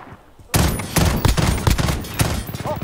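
The FAMAS FR 5.56 fires in three-round bursts in Call of Duty, Domination mode, giving loud, close, rapid gunfire that starts abruptly and keeps going in dense repeated cracks.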